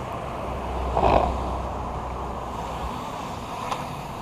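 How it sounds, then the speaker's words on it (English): A car passes on a road lined with power lines, its rushing swell peaking after about one second and then fading into steady wind noise. "Got another car coming at us"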